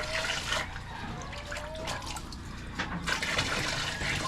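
Water runs from a tap in a continuous splashing stream, with a few louder gushes and drips, heard fairly close with no voices.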